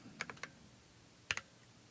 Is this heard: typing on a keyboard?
yes